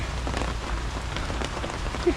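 Rain falls steadily on an outdoor vegetable plot, a dense, even patter close by with no talk.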